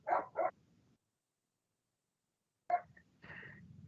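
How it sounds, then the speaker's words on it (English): Freya, a dog outdoors, gives playful barks: two quick yips at the start, a pause, then another sharp bark followed by softer whining sounds, fairly faint and distant in a quiet room. "What is Freya barking at out there? She's doing her playful bark."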